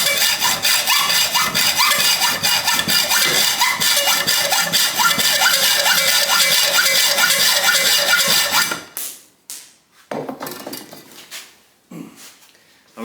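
Steady rhythmic strokes of a hand saw cutting through a metal bolt, close and continuous for several seconds, then stopping and giving way to a few scattered handling noises.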